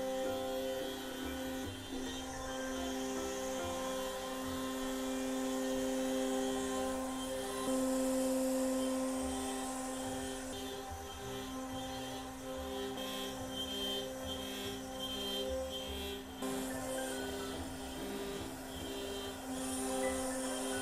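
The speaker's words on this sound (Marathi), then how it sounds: "माझ्या मागे तुम्हाला बराच आवाज येत असेल कारण मशीन चालू आहेत।" Steady droning woodworking machinery runs continuously in a large factory, a dense mechanical hum with whining tones and occasional rattles, no voices.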